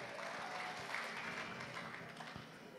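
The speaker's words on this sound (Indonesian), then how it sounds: "Tepuk tangan untuk Pak Gubernur loh ya." A crowd at a congress claps for the governor, a steady dense wash of applause from many hands that holds for the whole stretch at moderate, somewhat distant volume.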